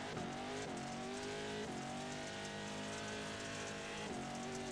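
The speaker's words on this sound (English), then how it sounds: "You can hear me just really grabbing gears coming out of that corner" A race car at Crandon accelerating out of the last corner, its engine climbing in pitch through repeated quick gear changes, the revs dropping and rising again with each shift, loud and steady with no talking.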